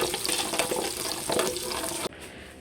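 Garlic and onion sauté in a pan with a steady, close sizzle and some stirring, then cut off abruptly near the end.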